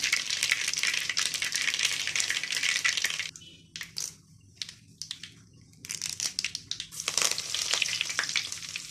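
Mustard seeds splutter in hot oil in a clay pot, close and dense. A loud crackling burst breaks into scattered pops, then the sizzle swells again to a steady fry.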